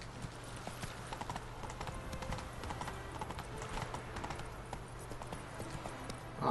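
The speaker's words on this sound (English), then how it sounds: "Come, horse!" Horse hooves clip-clop steadily on a hard path in the video game The Witcher 3: Wild Hunt, a quiet even trotting rhythm over low ambient game noise, without talk.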